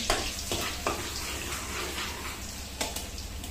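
Garlic hits hot oil while lumpiang shanghai is being cooked, giving a steady, close sizzle with a few sharp bursts as the pieces are stirred.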